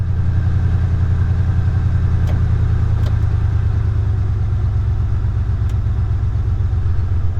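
Panel truck engine idling steadily, a loud continuous low rumble close by, running alone without pause.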